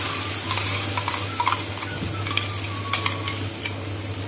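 Prepared puree poured into vegetables frying in a pan and stirred, giving a steady close sizzle with scraping stir strokes and soft clinks throughout, no talking.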